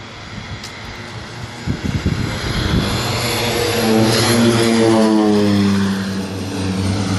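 A Winair Twin Otter turboprop at Canefield Airport runs its propellers up to full power, a loud, steady drone with rising harmonic tones that swells as it rolls into a short takeoff, without any voices.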